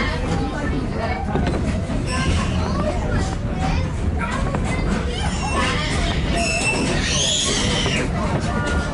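A Strasburg Rail Road passenger train rolls along with a steady rumble and rattle of cars, wheels screeching faintly at times, heard from onboard while a conductor's announcement and passengers' chatter carry over it.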